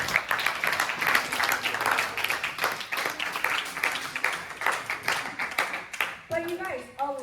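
A church audience at a pastor's sermon claps for Kyle, a moderate, fairly close burst of applause with talk mixed in, fading out near the end as speech returns.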